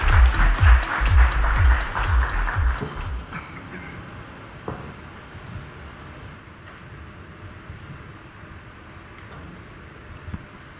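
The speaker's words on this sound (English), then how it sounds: "Can we get a bigger round of applause for all our moderators and panelists?" An audience at a corporate conference event in Mumbai applauds moderators and panelists, loud dense clapping for about three seconds that quickly thins and fades into quiet room noise.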